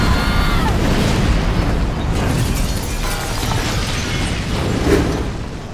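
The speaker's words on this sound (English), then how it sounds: "There was an explosion down there." A dense, sustained roar of an explosion in an audio drama scene, broadband rumbling and crackling that stays loud throughout with a small burst near the end.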